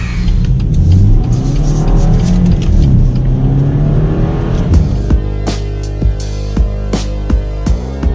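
A BMW X1 sDrive20i engine revs and accelerates loudly up through several gears, the pitch climbing and dropping with each shift, close and with no talking.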